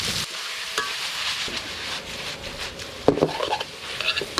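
Minced pork stir-fried with Thai basil in a pan, with a steady sizzle, and a few scrapes and knocks of a spatula, close and loud with no talking.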